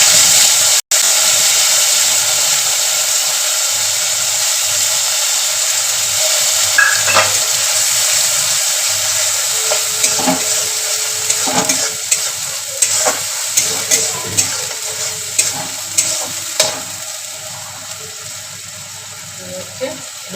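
Grated ginger, garlic and onion fry in hot oil in a kadai with a loud, constant sizzle, then a spoon scrapes and stirs in repeated clinks toward the end.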